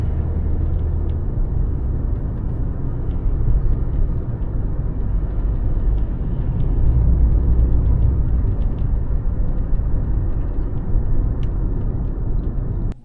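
Kia K5 taxi driving through Dnipro, a steady low engine and road rumble heard from inside the cabin, continuous with no talk.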